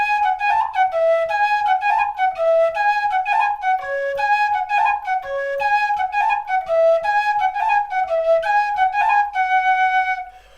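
Tin whistle playing the main melody of a folk metal song, a quick run of bright ornamented notes in a steady dancing rhythm, close and solo, ending on a held note.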